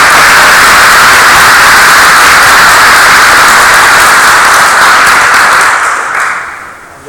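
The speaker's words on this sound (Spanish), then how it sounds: "un aplauso para nuestro invitado" Audience at a book launch gives loud, sustained applause for a guest, a thick wash of clapping that holds steady for several seconds, then fades out.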